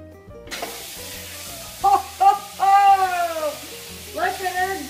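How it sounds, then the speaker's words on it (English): Turkey neck and giblets sear in a platinum pan with a steady frying sizzle throughout, while a person talks intermittently over the cooking noise. "And while that's searing,"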